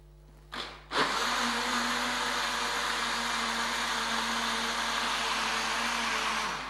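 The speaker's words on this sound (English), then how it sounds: "give it a mix in the blender" A blender starts up after a brief click and runs steadily with a loud, constant whirring roar for several seconds, mixing custard and banana.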